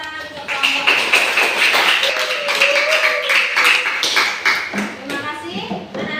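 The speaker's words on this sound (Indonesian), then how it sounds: "Kita beri tepuk tangan untuk kelompok." Children in a classroom applaud a student group, loud brisk clapping from many hands running throughout, mixed with excited kids' voices and chatter.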